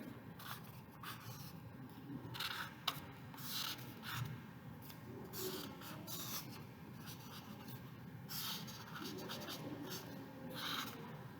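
A pencil scratches quickly over a gelli monoprint, sketching an animal shape in soft irregular strokes with light rubbing and scraping, close and quiet.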